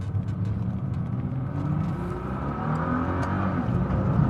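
A car engine revving aggressively, a muffled low rumble that swells and surges unevenly over a few seconds with no talk.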